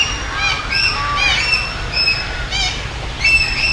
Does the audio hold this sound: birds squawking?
yes